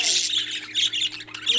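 A tailless baby parrot squawks in harsh, raspy bursts close by, loud and repeated over about a second and a half with no talk over it.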